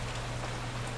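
Rain falls in the GameCube game Eternal Darkness, a steady, soft hiss with a low hum beneath it that continues evenly throughout, with no speech.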